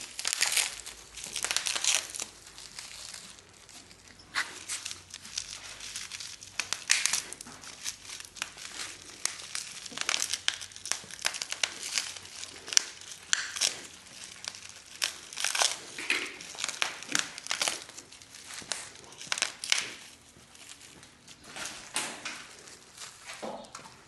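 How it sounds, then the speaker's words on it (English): Plastic wrap crinkles and tears as it is pulled off a new Jansen MB500 micro excavator, with steady crumpling and rustling bursts continuing close by for the whole stretch. "So we'll take these plastic wraps off"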